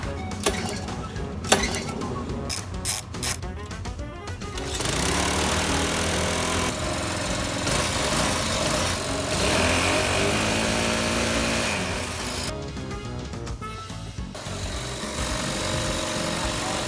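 A small engine pull-started on the first try and left running, with a steady, rough, fairly loud mechanical drone close by and some rattling and clattering near the start.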